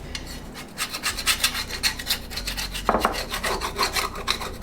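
Putty knife scraping debris off a mower blade, a quick series of rough rasping strokes in close, even rhythm.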